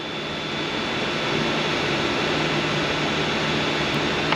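Steady broadband whir of a wood lathe spinning a cherry pen blank at 3000 RPM, continuous and fairly loud with a faint tonal hum, no talking.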